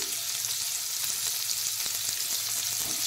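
Finely chopped medium onion fries in a pan for a Bengali rohu fish curry, a dense, even sizzle running steadily throughout with faint stirring ticks.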